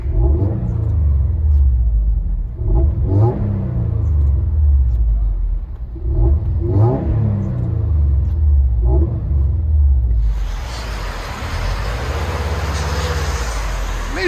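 A 2017 Subaru WRX STI with a resonator-deleted dual exhaust, heard from inside the cabin: a loud, steady engine drone that climbs in pitch through several rev sweeps, then gives way to a broader, hissier roar near the end.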